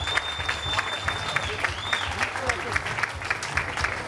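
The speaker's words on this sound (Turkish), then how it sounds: "Büyük bir alkış istiyorum." Applause from a crowd at a dental clinic branch opening launch in Istanbul, steady clapping that carries on throughout, with voices faintly under it.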